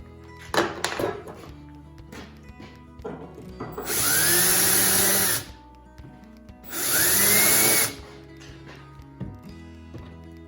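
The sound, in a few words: power drill drilling holes in wood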